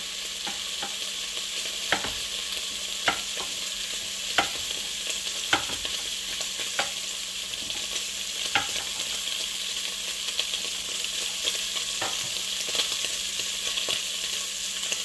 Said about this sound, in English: Let me mix it first. Get it a little more. There we go, getting that sear on it.